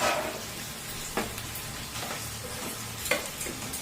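About a quarter kilo of chicken pieces stirred in a hot pan for curry, a steady sizzle and frying hiss with occasional scraping strokes of a spatula, no voices.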